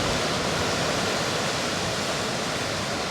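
Sea surge pushing through a rock blowhole on a rugged coast, a steady, loud broadband roar of rushing and churning water that holds for the whole stretch without a break.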